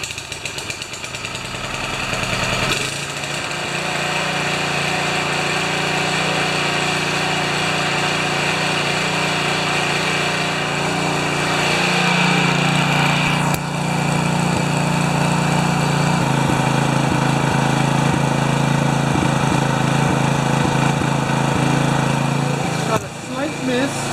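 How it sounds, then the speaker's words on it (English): A 3HP Briggs engine on a Turf Power tiller runs loudly and steadily at close range, slightly rich with a faint miss in its beat, the pitch shifting partway through as it is adjusted. "Okay, it has a slight miss, running just a tad rich."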